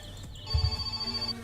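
A phone rings in My Summer Car video game, a sustained high electronic ringing tone over a low mechanical rumble and thumps, heard alone without talk.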